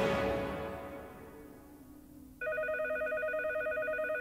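A cartoon telephone being dialed, a steady run of repeated electronic dial tones that starts abruptly after a fading tail of an earlier sound and continues evenly to the end.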